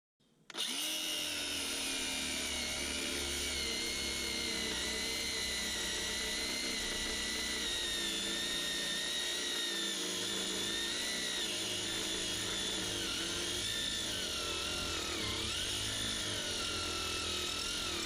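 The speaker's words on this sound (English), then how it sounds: "I could get at it with the angle grinder" An angle grinder cuts the excess bolt from new teeth on a Kubota U27-4 digging bucket, with a loud, continuous high-pitched whine that starts abruptly and shifts slightly in pitch as it bites into the metal.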